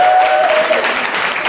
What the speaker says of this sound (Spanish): Oigan, estaría muy bien que los aplausos sean al final, ¿verdad?